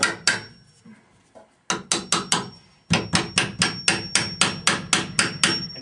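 Hammer tapping steel ties and wedges into concrete wall forms, sharp metallic strikes in a rapid regular series with a short pause, close and loud with no talking.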